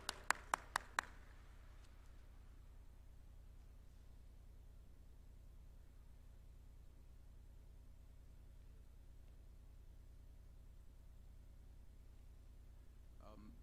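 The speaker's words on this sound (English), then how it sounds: "Let's clap for them." Brief burst of audience applause at a transnational education workshop: about five sharp claps at the start, then fading into steady room hum.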